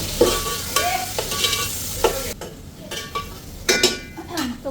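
Sliced onions hit hot oil for pulao, giving a loud, crackling sizzle punctuated by repeated spoon scrapes and clinks against the pot, with a brief quieter stretch midway.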